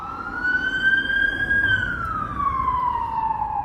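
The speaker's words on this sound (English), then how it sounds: "And as the police car goes by," A single police car siren wails as it passes, one long rising then falling tone heard fairly close over a low road rumble, with no talk.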